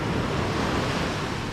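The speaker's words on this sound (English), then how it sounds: "The surf's kind of rough for the middle of July." Rough ocean surf at New Smyrna Beach in July, a dense, constant roar of breaking waves with wind buffeting the microphone, loud and unbroken throughout.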